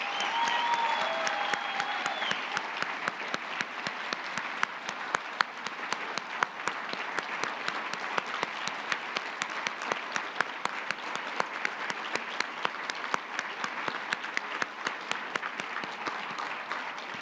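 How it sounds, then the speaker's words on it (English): Sustained audience applause at the William J Donovan Award ceremony, a dense steady patter of many hands clapping throughout, even and moderately loud from start to finish with no speech over it. "please join me in a round of applause for Dawn."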